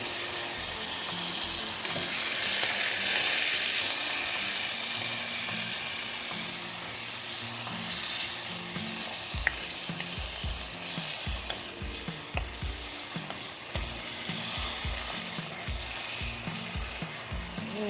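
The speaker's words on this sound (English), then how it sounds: "Now that that is frying," Fried rice sizzling in a pan with a drizzle of BBQ sauce, a steady soft hiss of frying with repeated scraping and stirring clicks of a utensil in the later half, close and fairly quiet, no voices.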